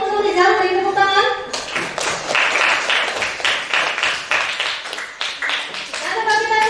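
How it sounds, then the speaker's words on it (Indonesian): A classroom group claps briefly for a student after a maths answer, a dense burst of many hands, preceded and followed by a teacher talking. "Terima kasih untuk Rizal, beri tepuk tangan"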